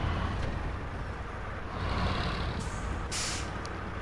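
A scout truck without mud tires in Snowrunner on PS4 drives along with a constant close engine rumble, joined by a couple of short hissing bursts near the end.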